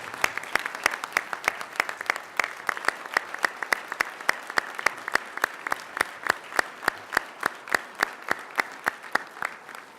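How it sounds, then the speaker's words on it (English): Audience at a Democratic event claps steadily in a final round of applause, a dense, even patter of many hands lasting throughout with no voices above it. "I would like you to join me in giving her"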